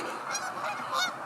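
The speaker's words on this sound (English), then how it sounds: "Like there's some geese out there." Geese honk near a bridge outdoors, several loud nasal calls overlapping in bursts with no talking.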